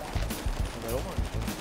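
Rapid gunfire in the GTA 5 video game, with several quick shots in a jittery rhythm at close range and a brief voice partway through.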